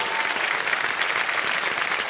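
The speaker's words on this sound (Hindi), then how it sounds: "तालियां बज जाएं इनके लिए।" Studio audience on a quiz show applauding steadily and loudly, a dense continuous wash of clapping with no break throughout.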